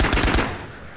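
Rapid automatic gunfire from hip-firing in the video game Ghost of Tabor, a loud close burst of several quick shots that stops after about half a second and leaves a fading echo.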